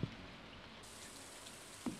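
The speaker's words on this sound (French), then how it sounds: "Et boum, il pleut, let's go!" Rain falling in the farming video game Stardew Valley, a steady soft hiss of patter held at a quiet level throughout, with a couple of brief faint knocks.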